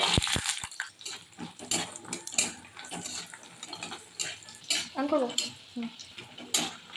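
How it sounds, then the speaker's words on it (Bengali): Bori lentil dumplings frying in white oil in a pan, steady crackling sizzle broken by frequent clattering stirs and utensil knocks against the pan, close and busy throughout, without speech. "প্রথমে এই তেলে আমি বড়িগুলো ভেজে নেব"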